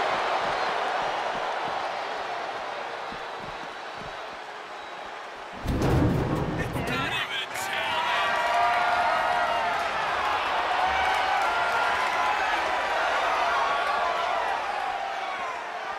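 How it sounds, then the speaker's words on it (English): A raucous crowd in a SmackDown arena during a ladder match in a wrestling video game, roaring steadily throughout, with a sharp slam or impact thud partway through and the roar swelling afterward. "A raucous SmackDown crowd, they came to see the action."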